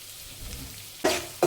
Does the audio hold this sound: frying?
yes